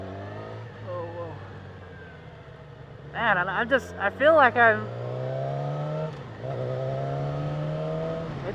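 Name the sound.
2016 Yamaha R6 motorcycle engine revving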